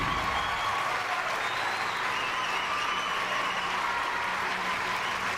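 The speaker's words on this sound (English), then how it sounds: "let me give y'all a round of applause" A canned applause sound effect plays as a dense, even wash of crowd clapping that stays loud and steady throughout, with no voices over it.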